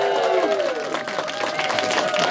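A comedy club audience at the Edinburgh Fringe Comedian of the Year semi-final claps and cheers for a comedian walking on, steady dense applause close by with whoops mixed in.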